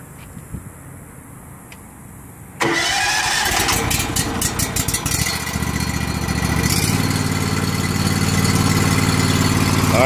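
A power washer engine on a trailer setup cranks and catches abruptly, then settles into a loud, steady mid-pitched running drone that grows fuller after a few seconds, with quiet clicks beforehand.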